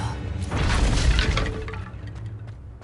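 Confringo and Descendo spells in Hogwarts Legacy, a loud crashing blast with shattering debris that swells for about a second and then fades into scattered smaller cracks.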